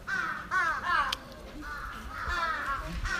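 Several crows caw in short harsh bursts, loud and fairly close, repeating in quick groups with brief pauses between them.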